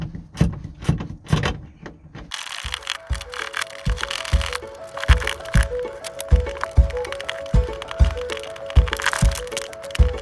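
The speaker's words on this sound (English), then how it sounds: "It's a 10mm, so get the small socket on there. Hopefully this will release this then." A 10mm socket wrench working a bolt loose on a Ford Fiesta being stripped for parts. Close, sharp clicking ratchet strokes come in a steady repeating rhythm, with a few heavier knocks at the start.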